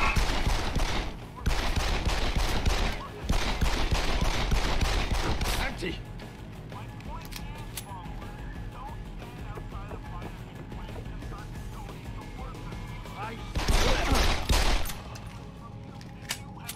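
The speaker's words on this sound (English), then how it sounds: "Gunshot!" Gunfire in the stealth-action game Deus Ex: Human Revolution: long, dense bursts of rapid automatic shots fill the opening seconds, give way to a quieter ambient stretch, then return briefly in another loud volley.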